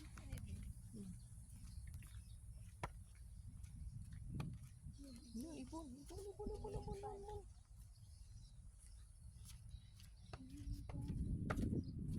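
Outdoors, where chickens are being fed, a bird gives a few short, wavering calls that sit quietly behind people chatting nearby.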